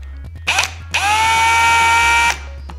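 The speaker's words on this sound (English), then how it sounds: "by taking a drill bit that's the same diameter as our barrel, we can drill it and pass it right through" A power drill with a drill bit bores through a small plastic servo arm, giving a short burst and then a steady, close whine of about a second and a half before stopping.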